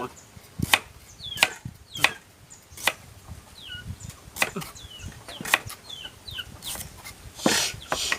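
Chickens cluck and chirp in bursts beside an outdoor cooking spot, mixed with sharp, regular knocking like a knife chopping on a board, over a low ambient background.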